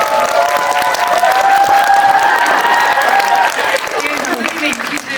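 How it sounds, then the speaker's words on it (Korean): Steady applause from a cinema audience at a film Q&A at Lotte Cinema World Tower, sustained and fairly loud, with some cheering or voices mixed in that fade slightly toward the end. "박수 한번 치고"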